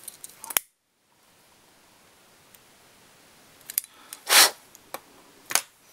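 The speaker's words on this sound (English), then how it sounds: "I'm going to cut that off." Scissors snip thread while a Greenlander variant Templedog salmon fly is being tied, with a few sharp, close clicks and cuts spread out over quiet background.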